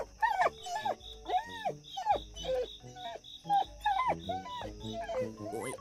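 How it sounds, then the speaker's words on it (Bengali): A cartoon dog from a Bangla-Hindi dubbed Tom and Jerry episode lets out a run of high, whiny yips and whimpers in short bursts, loud and close, alongside other cartoon vocal sounds. "ওয়ে ডগ, করিও না ভুক ভক"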